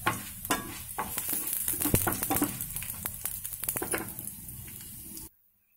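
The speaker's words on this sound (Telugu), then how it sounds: "1-2 ఎండుమిర్చి, 1-2 రెమ్మలు కరివేపాకు, 1/2 స్పూను జీలకర్ర. మొత్తం అన్నీ బాగా వేయించుకుందాం." Dried red chillies, curry leaves and cumin frying in oil for a tempering give a crackling, spattering sizzle with bursts of stirring. The sound is close and moderately quiet, then cuts off abruptly near the end.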